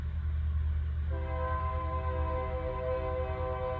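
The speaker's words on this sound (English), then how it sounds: "Sorry about the train." A train passing near a home workshop, with a deep steady rumble of rolling cars throughout and a sustained multi-tone horn blast joining partway and holding to the end, loud and close, with no talk.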